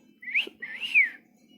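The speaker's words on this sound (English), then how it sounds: "And he whistled." Two rising-and-falling whistled notes, the second longer and sliding, clear and close with no talking.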